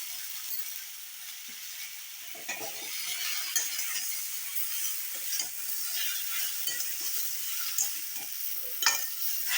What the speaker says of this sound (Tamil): உப்பு போட்டு வதக்கும் போது இன்னும் கொஞ்சம் ஸ்பீடாக வதங்கிடும்